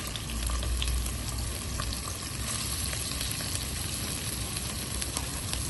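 Roughly chopped medium onion fries in a pan with a continuous, even sizzle and crackle, close and fairly loud, with no voices over it.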